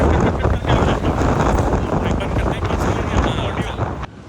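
Cold wind blows hard outdoors with a loud, constant buffeting roar against the microphone. Faint voices are partly buried under the gusts.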